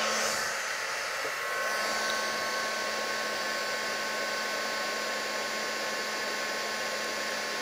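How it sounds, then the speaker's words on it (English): A handheld craft heat tool blows steadily, melting embossing powder; a continuous, loud, even whir with a faint whine, alone with no talk. "And bring in my heat tool."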